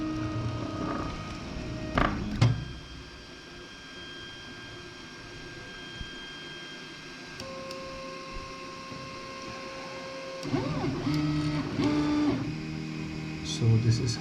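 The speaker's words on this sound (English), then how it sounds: "I think it should start printing" An Augment 3di 3D printer running PLA filament gives off steady stepper-motor tones and whirs that rise and fall in pitch as it moves. Clicks and buzzing movements come in short bursts, and the whole thing sounds close and fairly quiet.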